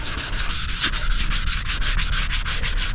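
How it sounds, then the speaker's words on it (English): Spray paint on a car door is lightly sanded by hand, a loud rhythmic scratchy rubbing with quick back-and-forth strokes repeating evenly throughout, close up and without talk. "And we're just lightly sanding it."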